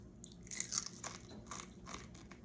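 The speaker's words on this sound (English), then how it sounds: "That little fin right there, you just eat it off. Like that. Real crunchy." A crispy fish fin is bitten and crunched up close: a quick series of sharp, crackly crunches, quiet and with no talking.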